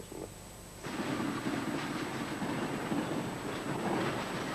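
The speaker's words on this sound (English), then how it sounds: "The train from Friedrichstrasse in the east to Lehrte Bahnhof in the west takes just 3 minutes." A train running on rails between Friedrichstrasse and Lehrte Bahnhof in Berlin, a continuous broadband rumble of wheels and carriage that swells in after a quiet start and stays steady and close, with no talking.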